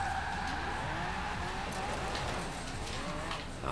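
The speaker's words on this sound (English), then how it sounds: "So turn in and start the drift." Car drifting through a turn in the Forza racing game, a continuous engine drone with tire squeal and skid noise at steady loudness, no talk.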